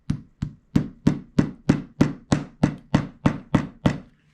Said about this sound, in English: now I can use my hammer